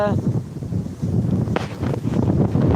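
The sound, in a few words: wind blowing into the microphone outdoors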